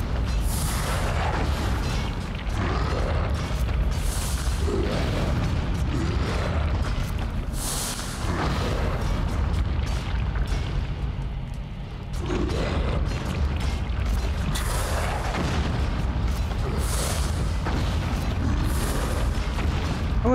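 Bombs exploding in the action game Nioh 2, with repeated heavy booms and bursts rolling over a dense mechanical din that continues loudly throughout, with no voices.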